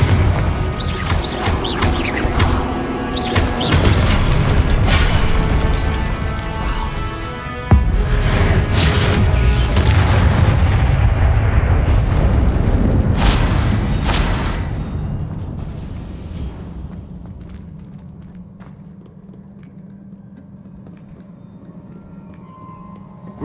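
Confringo fire spells explode in the Hogwarts Legacy video game. A dense run of loud crashing blasts and booms lasts for several seconds, then fades into a low, quiet rumble.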